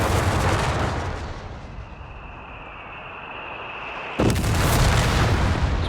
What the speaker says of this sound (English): Seems like now the regular mortar and the heavy mortar seem to have pretty similar auto-fire rate.